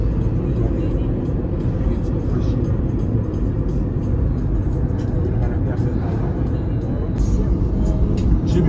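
A car drives along a mountain road in Jamaica, a steady low engine rumble and road noise from inside the cabin, continuous and loud, with a voice speaking over it.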